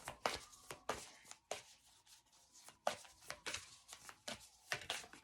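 Tarot cards being shuffled by hand, a run of sharp riffling bursts and soft slaps in irregular clusters, close and fairly loud, with no talk.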